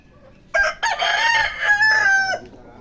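A backyard-bred gamecock rooster crows once, loud and close, a drawn-out cock-a-doodle-doo lasting about two seconds.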